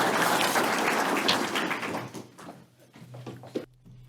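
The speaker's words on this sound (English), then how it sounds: "If everyone would, give these folks a round of applause" An audience at the Etowah County mayors summit applauds visiting officials. A full burst of clapping fills the first two seconds, then thins out to scattered claps before dying away.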